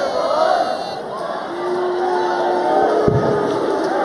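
Darts arena crowd roars and chants in support of Gerwyn Price, a broad sustained wash of voices with a sharp whistle and a sudden pop, steady and fairly loud throughout.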